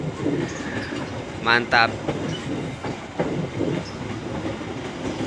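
The Garut–Cibatuan local passenger train rolls through Kiaracondong station with steady rumbling and clattering wheels and a couple of brief squeals, loud and close, while a voice speaks briefly over it.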